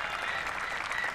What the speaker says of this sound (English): there's a lot of applause by the crowd